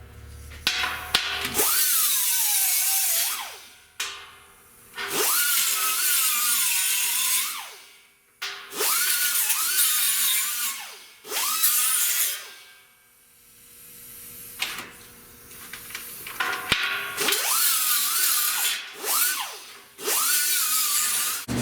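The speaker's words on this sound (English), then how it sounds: "we almost got this piece grinded down to where it needs to be" A power tool grinding down a rusty steel rear deck panel during car body repair, running in loud whining bursts of a few seconds each that rise and fall, separated by short pauses, with no talking.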